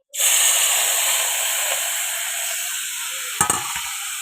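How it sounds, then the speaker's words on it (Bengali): Turmeric- and salt-coated food frying in very hot oil, a loud continuous close hiss and sizzle that starts abruptly, with a couple of sharp clatters near the end. "এই যে তেলটা পুরো গরম হয়ে গিয়েছে, আমি স্টিমটা অল্প কমিয়ে দিই আর এটাকে ভেজে নিই।"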